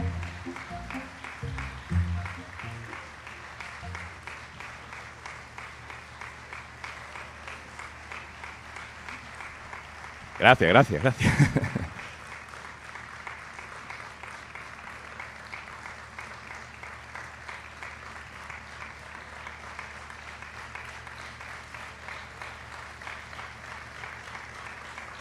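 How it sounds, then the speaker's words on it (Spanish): An audience applauds at a live podcast-style talk event in Las Palmas de Gran Canaria: a burst of clapping around the middle, with quieter patter and a voice briefly before and after. "estamos como a 5 segundos de aplausos de la emoción"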